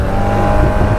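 SYM Maxsym 500 TL scooter accelerating to overtake on a road in Corsica, a steady loud engine drone with rushing wind noise, continuous and close.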